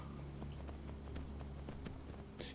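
A horse gallops in Skyrim, its hooves striking in a fast, steady clip-clop rhythm over a low background drone, continuous from start to finish.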